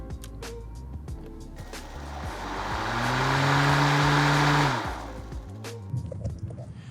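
A Ryobi lawn mower for small spaces starts up: clicks and handling noises, then a motor whirs up to a steady hum for about two seconds and winds down, fairly close.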